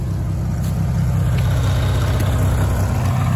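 A Wheel Horse 414-8 garden tractor engine runs steadily close by, a loud, even, low throbbing drone with a fast regular pulse and no pauses.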